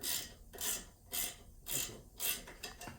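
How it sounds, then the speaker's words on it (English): Rhythmic metallic rasping strokes, four or five close scraping pulses evenly spaced, as a tool tightens a motorcycle exhaust silencer at close range, with no talking. "So we're tightening up the silencer."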